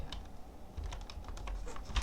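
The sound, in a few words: typing on a bouncy computer keyboard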